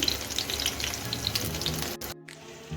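Pumpkin flower pakoras deep-fry in hot oil with a dense, crackling sizzle close by, and it drops out abruptly near the end, with no voices.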